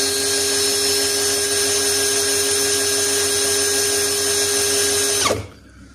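Dopard 16V brushless impact drill running at speed 2, a steady high-pitched motor whine held loud and close for about five seconds, then cutting off as it spins down.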